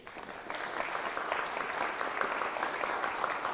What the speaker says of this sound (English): I'd also like to give another round of applause to our spirits, Azariah Egleston and widow Tracy